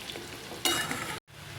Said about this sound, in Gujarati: આ રીતે આપણે ધીમે ધીમે હલાવતું રહેવાનું।